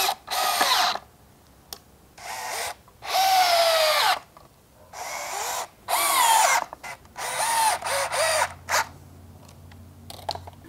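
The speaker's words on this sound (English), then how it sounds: "we're just gonna go ahead and screw in" A power drill sinks 2.5-inch screws into a wooden sawhorse in a series of close whirring bursts of varying length separated by brief pauses, loud and alone with no voices.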